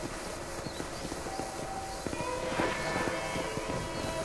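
Horse hooves clip-clopping in the Western video game Red Dead Redemption, a steady rhythmic patter of steps under a low ambient bed with some faint tonal sounds.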